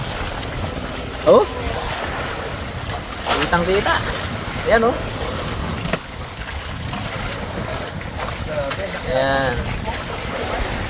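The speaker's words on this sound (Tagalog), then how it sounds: "Ah, lalaki ng alon." Big ocean waves wash and slosh steadily around a boat at sea under a dark, low-pressure sky, with wind noise throughout while people talk briefly over it.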